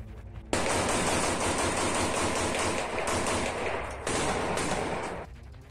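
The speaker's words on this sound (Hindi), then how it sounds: "उसमें उनके लड़ाके यूक्रेन की सेना पर ताबड़तोड़ गोलियां बरसाते दिखाई दिए थे" Sustained heavy automatic gunfire in the Russia-Ukraine war, loud and dense, rattling continuously for several seconds with a brief dip midway.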